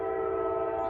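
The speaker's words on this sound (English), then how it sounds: "Let me let the train pass." A passing train sounds a steady, sustained horn-like drone, loud and unbroken for the whole moment, with no talk.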